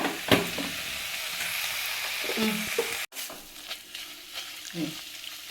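Gongura (sorrel) leaves sizzle and crackle as they roast in a hot pan, with scraping stirring strokes and a brief break partway through.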